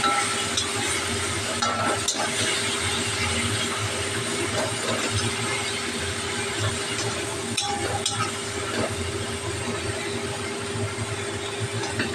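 Ground coriander and cumin fry in oil for a raw banana kofta curry, giving a steady, loud sizzling hiss throughout with a few brief stirring scrapes.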